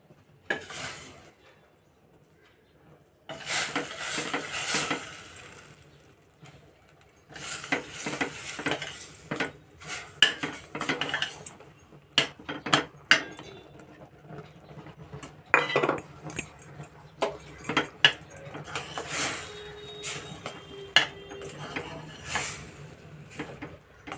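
Irregular clinks and scrapes of a spoon stirring rice flour into boiling water in a metal pot, close by, with bursts of bubbling-like noise between the strokes.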